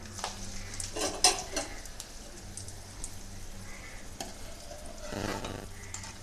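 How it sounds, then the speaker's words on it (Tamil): Appalam samosa frying in hot oil over a medium flame gives a continuous close sizzle, broken by a few clinks and stirring scrapes of a utensil against the pan. "இப்போ வந்து இதை எண்ணெயில் போட்டுக்கலாங்க"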